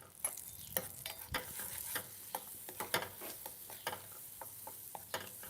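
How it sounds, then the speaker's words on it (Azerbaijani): Red pepper flakes dropped into hot oil give a soft crackling sizzle with scattered sharp ticks and stirring clicks, moderately close and steady throughout, with no one talking. "Yağ da hazırdır. Dediyimiz o pul biber əlavə edirik."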